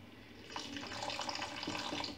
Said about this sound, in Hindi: तो थोड़ा सा पानी डाल देते हैं।